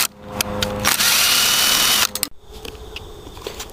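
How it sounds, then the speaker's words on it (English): A power drill removing bolts from a 4 hp Briggs & Stratton engine whirs loudly in two bursts, with a brief pause between, then cuts out, leaving lower mechanical clicks and rattling close by. "now we use a handy dandy drill"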